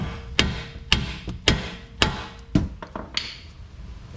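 A hammer strikes a nut started on a strut bolt during Cadillac XT5 front strut replacement, sharp metallic blows about every half second, several evenly spaced then a few quicker lighter taps, close and clear.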